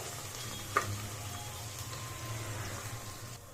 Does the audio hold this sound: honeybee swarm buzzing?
no